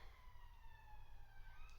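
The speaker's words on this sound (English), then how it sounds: "sirens are going off" Emergency sirens wail faintly outdoors in the distance, a steady gliding tone with a low traffic rumble beneath.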